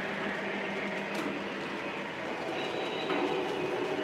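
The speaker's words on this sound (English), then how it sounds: "We're going to run some trains for a little while longer" A Lionel model train runs steadily along its track, a continuous close rumble of wheels and rail noise with a brief squeal near the end, no talking.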